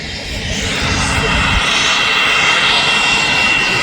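Jet engines of an executive jet at Manchester Airport roar loud and steady, a broad rushing whine with a deep rumble easing after the first moments, no talk.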